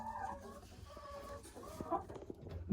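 Hens clucking in a henhouse where white eggs and broiler eggs are being collected, with soft, close, irregular clucks and short calls over quiet background noise.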